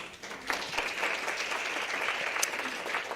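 Audience applause at a Women in Tech meetup in Johannesburg, a short, even round of clapping from a room of people, moderately loud and steady.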